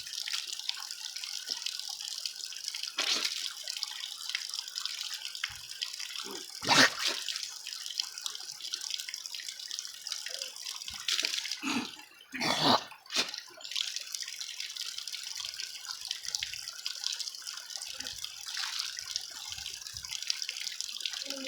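Cold mountain spring water runs steadily from a spout, splashing and gurgling continuously, with a few louder splashes and drips along the way.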